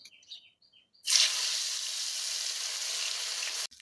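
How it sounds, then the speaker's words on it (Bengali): Fish frying in hot oil in a wok, a steady bright sizzle that starts abruptly after a second of near silence and holds evenly until it cuts off near the end. "এই মাছগুলো আমার ভাজা হয়ে গেছে,"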